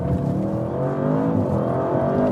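A 2024 Audi RS7 Performance with its V8 accelerating hard to 50 mph, heard as a steady rising engine drone with layered harmonics, continuous and fairly loud, with no talking.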